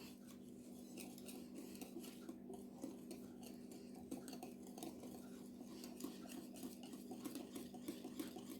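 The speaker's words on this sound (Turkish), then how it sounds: "1 çay bardağı sütümü de ilave ediyorum. Hepsini karıştırıyorum." A spoon stirs oil, milk and other ingredients together in a bowl for a watermelon cake batter, making faint, steady, rhythmic scraping and clinking that goes on throughout.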